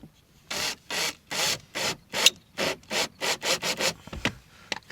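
A screw is turned by hand while mounting a car speaker, making a rhythmic series of about a dozen short, close rasping strokes with brief pauses between them.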